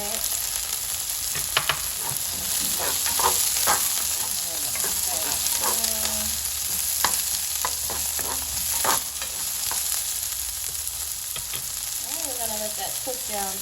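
Onions sizzle steadily in a hot frying pan while a utensil stirs and scrapes through them, with occasional clicks and knocks against the pan throughout.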